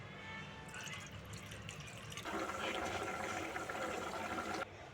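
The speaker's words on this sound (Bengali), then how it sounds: "এরপর দিয়ে দেবো পরিমাণ মতো জল" Water is poured into an amudi fish jhal curry mixed with mustard oil, a steady splashing rush that swells louder for a couple of seconds before cutting off, close by with no talking.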